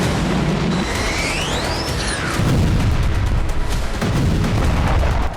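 News footage of bombing and artillery fire in southern Lebanon, with loud, dense rumbling booms and blasts across the whole stretch. Whistling, sweeping tones pass over the noise.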